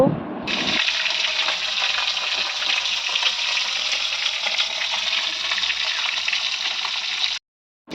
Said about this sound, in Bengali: আমি ওদিকে ভাজছি তো একটু ভালোভাবে ভেজে নেব